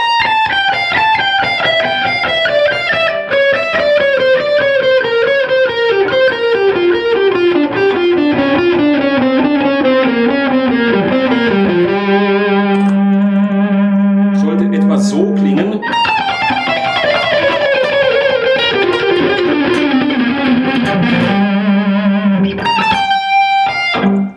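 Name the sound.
distorted electric guitar playing scale pattern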